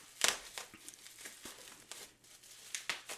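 Packaging for a polished damascus dress watch is crinkled and torn open during an unboxing, close-up rustling with a few sharp crackles and soft handling noises, and no one speaks.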